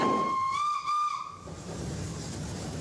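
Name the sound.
90-year-old steam locomotive whistle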